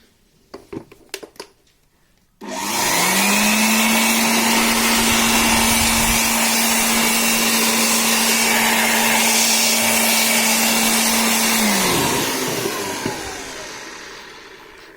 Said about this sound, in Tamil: லைட்டாக ப்ளோயர் ஆன் பண்ணி ப்ளோயர்லேயும் நல்லா விட்டுறணும்